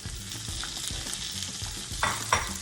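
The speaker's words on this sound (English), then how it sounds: "I've got my meat cooking on the other burner" Browning meat and spinach sizzle together in a pan over medium-high heat, a steady close crackling hiss with a few louder bursts of spatter near the end and no talking.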